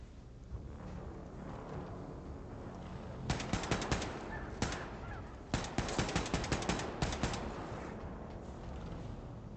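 Gunfire in Wolfenstein II: The New Colossus, a Nazi-era shooter, comes as repeated rapid automatic bursts and sharp single shots in the middle stretch, set against a steady, low background hum.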